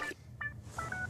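A telephone being dialed: a few short, separate tones with brief gaps between them, faint and close, over quiet room hum, with no talk.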